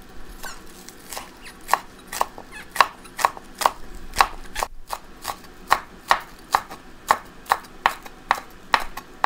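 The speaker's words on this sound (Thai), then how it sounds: "ซอยบัวใบ" A knife slices spring onions on a board for mushroom larb, about twenty crisp, evenly spaced chops in a steady rhythm, close up and without talking.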